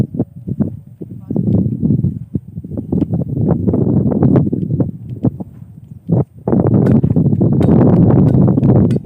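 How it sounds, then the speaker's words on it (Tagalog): Strong outdoor wind buffets the microphone in heavy gusts that nearly drown out the scene, with a short lull before it surges again louder. "palakas yung hangin"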